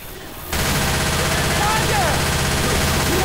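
Sustained automatic gunfire in Left 4 Dead 2 that bursts in loudly after a brief quiet moment and keeps rattling steadily without a break.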